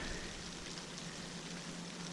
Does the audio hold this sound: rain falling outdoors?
yes